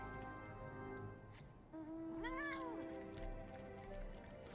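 A house cat lets out one rising-and-falling meow in the middle of a quiet indoor room hum, close by and clear.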